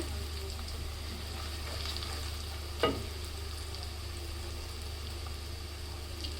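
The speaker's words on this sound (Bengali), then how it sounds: "পেঁয়াজটাও ভাজা হয়ে গেছে" Onion and spices fry in a pan with a soft, steady sizzle and a single brief scrape of stirring, faint and without voices.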